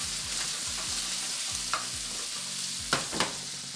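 Shrimp and garlic sizzling together in one pan, a steady bright hiss with a few soft stirring scrapes and clicks, close and uninterrupted, with no talking.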